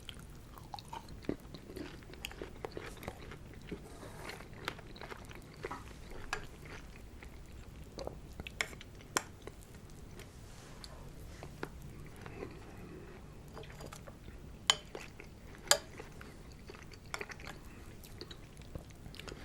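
Strawberry Rice Krispies cereal being eaten close up, with soft wet chewing and scattered crisp bites and crunches repeating irregularly throughout, no talking.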